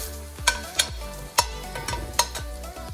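Garlic, ginger and spices fry in a pan with a steady sizzle, broken by several sharp clacks and scrapes as they are stirred, close and fairly loud with no talking.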